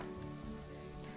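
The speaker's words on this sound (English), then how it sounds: "Why is there so much rain?" Steady rain pours down across a rainforest habitat in the Planet Zoo game, a dense, even hiss of falling drops with no break, moderately soft and free of speech.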